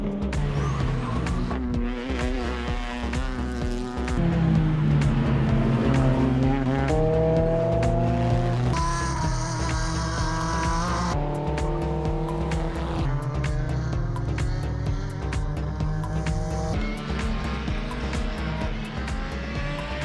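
Race cars lap the track at a KZN Road Racing Championship Time Challenge, engines loud and continuous, revving up and down through gear changes with tire squeal, several cars passing close in succession.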